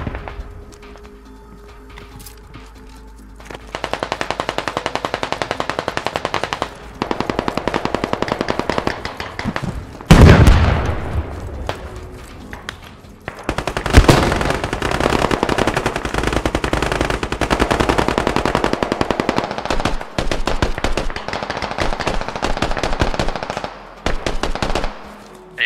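Sustained automatic gunfire in the military shooter game Squad, long loud bursts of rapid fire rolling on for most of the stretch, with a few sharp heavy thuds mixed in and short lulls between volleys.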